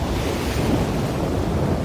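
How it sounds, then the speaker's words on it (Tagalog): Steady roar of sea surf with wind buffeting the microphone, a continuous broad wash of water noise with no voices. "yung mga alon dito."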